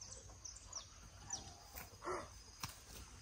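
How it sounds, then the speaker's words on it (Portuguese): A crow calls a few times at a distance in a rural countryside setting after a heavy rainstorm, its faint cries rising over a soft background hiss. "Escuta o corvo."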